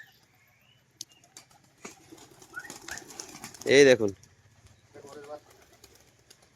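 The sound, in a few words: pigeons cooing and flapping wings while feeding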